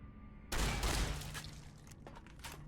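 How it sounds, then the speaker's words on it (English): Burst of gunfire in Fallout: New Vegas as a character is shot, a sharp loud volley that swells suddenly and rings on with scattered lighter cracks. "Put a few more bullets into Fantastic just for the sake of it."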